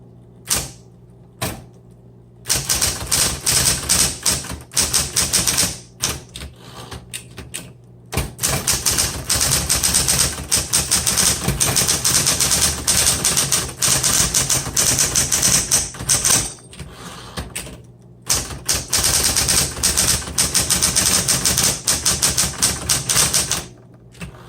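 A 1970s Smith Corona Electra 120 electric typewriter hums and clatters in long bursts of fast typing, broken by short pauses and a few isolated clacks, close and loud.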